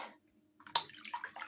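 Tap water runs briefly as someone checks its temperature indoors, a soft splashing rush that starts after a quiet pause and continues with gurgling bursts.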